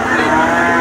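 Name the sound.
cow mooing at a cattle market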